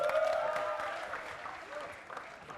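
Applause from a crowd, clapping that fades gradually over a couple of seconds, fairly distant and moderate in volume.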